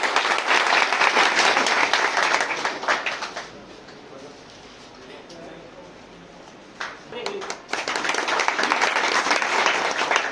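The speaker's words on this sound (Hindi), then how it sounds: "तो इनके लिए भी एक बार जोरदार ताली हो जाए।" Crowd at a local municipal gathering breaks into loud, dense clapping that fades to a quieter lull of murmuring voices midway, then surges back into strong applause for the final seconds.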